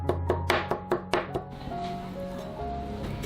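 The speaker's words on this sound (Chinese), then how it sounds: "生姜用刀背拍成姜蓉。" Fresh ginger smashed with the back of a knife on a board into paste, six sharp heavy thuds in quick succession, then a softer scraping and rustle.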